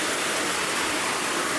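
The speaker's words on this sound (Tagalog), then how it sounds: "Inaabot pa tayo ng ulan." Steady rain pours down outdoors, a dense, even hiss with no letup and no voices.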